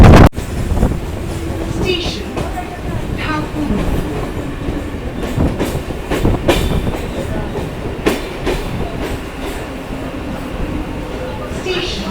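A Sealdah–Bangaon local train on the Eastern Railway rumbles out of Gobardanga station, its wheels clattering over rail joints with sharp clicks and a steady roar, loud and close, with people talking over it.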